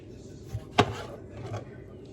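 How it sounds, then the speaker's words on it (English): A knife slices the ends off and quarters Roma tomatoes on a cutting board for pico de gallo. One crisp chop stands out, with two softer cuts on either side, close and fairly quiet. "Just cut the ends off. Quarter them"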